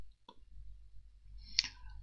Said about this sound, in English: So I click continue.